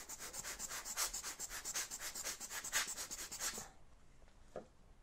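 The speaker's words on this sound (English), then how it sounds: "blower brush" A blower brush cleans the sensor of a Hasselblad 907X 50C camera, sending a quick, even run of close, hissing air puffs that stop abruptly, leaving quiet.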